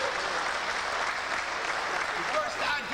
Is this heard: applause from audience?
yes